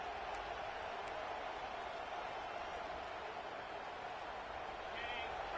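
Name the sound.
home crowd cheering at a football game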